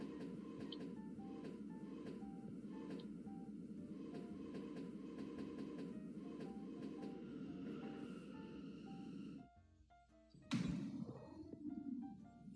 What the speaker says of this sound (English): It's a subway train.